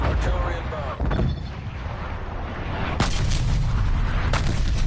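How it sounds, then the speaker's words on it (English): Artillery strike explosions in Call of Duty Black Ops Cold War: loud, heavy booms land around the one- and three-second marks over a continuous roar of gunfire and rumbling blasts. "Targeting active. Artillery inbound."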